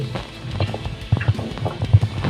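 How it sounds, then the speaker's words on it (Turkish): Footsteps in the Minecraft video game thud in an uneven, quickening rhythm close by, a string of soft low impacts growing louder toward the end. "Ayak sesi."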